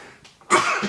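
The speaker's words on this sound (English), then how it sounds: "I'm going to sneeze." A sneeze during casual football podcast chat, a sudden loud broadband burst after a short quiet inhale, close and alone with no talk over it.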